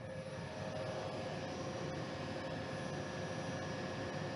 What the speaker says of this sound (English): I'm going to check the blower compartment. See if that's running.